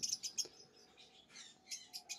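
Lovebirds in a bird shop, including mutation and albino birds, give quick, sharp chirps in close bursts, with short gaps between them, against a quiet room.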